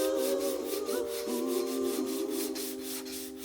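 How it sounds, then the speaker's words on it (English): The top half of a car bumper coated in body filler is sanded by hand, making a rapid, regular back-and-forth rasping that is loud and close, continuing steadily throughout with no talking. "is sanding the top half of the bumper"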